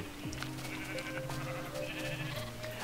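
Minecraft sheep bleat in a wavering, nasal cry that starts early and stretches across the clip, with a second bleat layered in, over steady game background noise and no talk.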